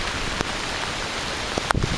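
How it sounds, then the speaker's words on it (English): Heavy rain pours steadily in windy Hurricane Sandy conditions, a continuous broadband wash, with a few sharp knocks and taps breaking through near the end. "it's just raining and it's windy"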